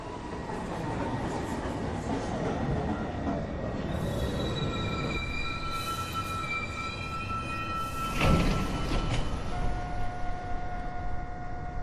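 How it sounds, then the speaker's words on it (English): An uptown 1 local train pulls into Beverly Road station on the NYC subway, rumbling loudly with long, high wheel squeals and brake whines, then a burst of air release near the end. "This is a 1 train going uptown towards Rector Street."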